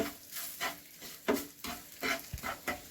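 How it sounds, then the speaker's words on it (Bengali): Spices with a pinch of turmeric and sugar are stirred in a pan for a Bengali malai paneer, with soft rhythmic scraping strokes over a faint sizzle, about six quiet strokes with no talking. "আর একটু স্বাদের জন্য মিষ্টি মানে চিনি দিয়ে আমি এগুলোকে একটু ভালো করে নেড়ে নিয়ে"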